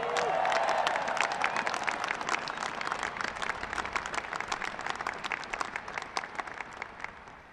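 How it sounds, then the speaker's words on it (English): Sustained applause from a large audience at the 2016 U.S. Air Force Academy graduation ceremony, a dense crowd of clapping that stays steady and loud, with faint cheering mixed in, gradually thinning toward the end. "Give them a big round of applause."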